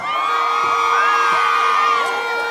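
Loud concert crowd at a performance cheering, whooping and shouting continuously, with a strong sustained tone running underneath the roar throughout.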